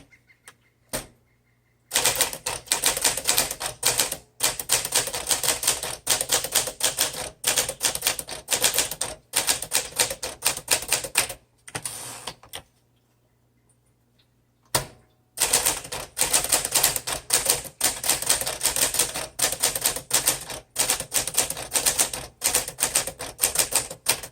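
A Smith Corona manual typewriter is typed on at length, loud and close, with rapid mechanical key strikes in long runs broken by brief pauses and a carriage return partway through.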